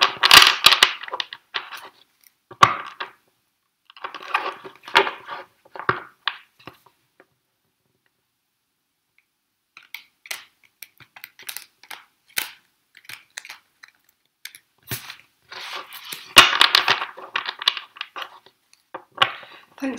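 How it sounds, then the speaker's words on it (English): Tarot cards being shuffled by hand, bursts of crisp riffling and soft slapping in uneven clusters with pauses between, close and fairly loud, without talk. "Let me just shuffle them up a bit more."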